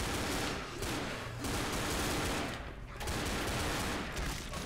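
Gunfire in the Left 4 Dead video game, with a horde of zombies nearby: dense, continuous rattling shots that run almost without a break, fairly loud, easing off briefly a couple of times.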